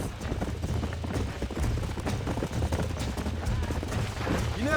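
Horse hooves clip-clop steadily in Red Dead Redemption, a brisk rhythmic gallop of several horses, loud and close over a low rumbling background.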